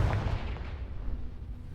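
A Confringo blast spell explodes in the Hogwarts Legacy video game, giving a loud, deep boom that rolls on as a dense rumbling blast for nearly two seconds, with no voices.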